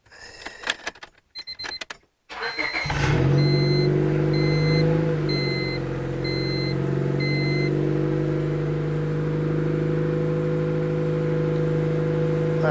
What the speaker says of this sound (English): I do know that the exhaust is not hooked up to this car in the middle, so she's a little bit loud.